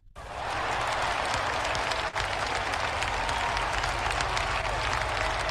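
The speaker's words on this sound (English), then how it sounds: "that first set of claps just sounds lame" Studio audience applause rises quickly from silence into a thick, continuous wash of many clapping hands, even and loud throughout.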